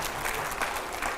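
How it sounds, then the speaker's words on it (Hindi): Studio audience claps during a televised election-debate programme, a short burst of dense, even applause heard alone. "जोरदार तालियां हो जाए जरा।"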